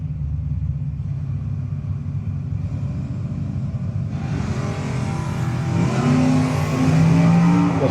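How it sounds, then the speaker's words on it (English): A 1968 Camaro and a 1981 El Camino at a drag racing event, engines idling with a deep low rumble that builds as they rev louder toward the end, with rising whine tones near the close. "Always double tough in that 68 Camaro. Werner, second generation racer in the 81 El Camino."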